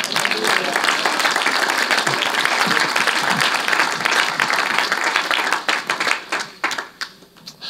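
A church congregation applauds in loud, dense, sustained clapping that thins out into scattered claps near the end.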